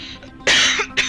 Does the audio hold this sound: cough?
yes